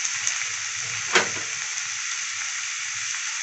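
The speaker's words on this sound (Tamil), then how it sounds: "இதில் பொடியாக கட் பண்ண வெங்காயத்தை சேர்த்துக்கலாம். கருவேப்பிலை சேர்த்துக்கோங்க." Chopped onions and curry leaves fry in hot oil in a pan, giving a steady moderate sizzle with one brief louder clatter near the start, close by and without speech.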